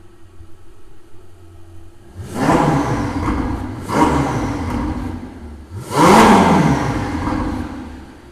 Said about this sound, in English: I'm going to do a few little blips on the exhaust.